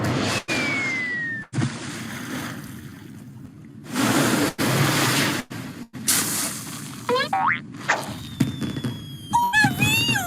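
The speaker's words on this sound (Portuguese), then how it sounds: "Ah, e aproveitem os fogos!" Cartoon fireworks, a series of loud hissing bursts and whooshes separated by sharp silent gaps, ending with rising whistles and boing-like springy tones.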